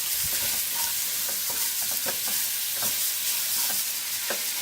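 A spatula scrapes through a mango-coconut chutney mixture with salt and turmeric in a pan with quick, repeated strokes over a constant bright sizzle.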